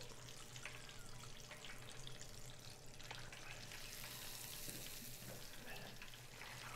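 Catfish fries in hot oil, Louisiana Cajun style, with a dense, continuous hiss and crackle at a quiet level and a steady low hum beneath it, with no other sounds.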